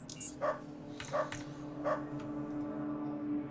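Game dogs in Underrail barking in three short, evenly spaced yaps over a steady low hum, moderately close, with no talk.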